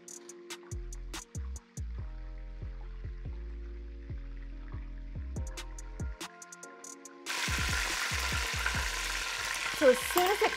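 A chicken Milanese cutlet fries in oil; quiet sparse crackles and low thuds give way midway to a dense, louder sizzle that continues to the end.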